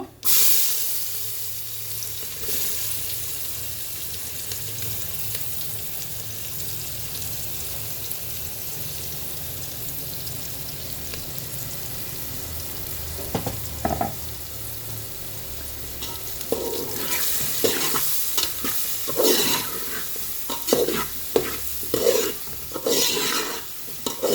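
Onions and cumin seeds fry in a pan for an egg curry, giving a steady close sizzle. Stirring and scraping grow busier and louder in the second half, and nobody speaks.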